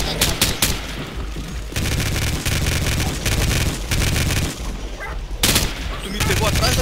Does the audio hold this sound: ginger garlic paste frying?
no